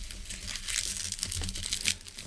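Plastic bubble wrap and packing tape crinkle and crush around a chunky used book being double-wrapped for shipping, a close, continuous rustle with small tearing swells and no talk.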